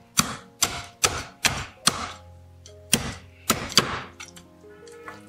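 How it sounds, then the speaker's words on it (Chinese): A cleaver chops a fish head in half on a cutting board, producing about eight loud, sharp thunks in an uneven rhythm, close up and with no talking. "放案板上对半剁开"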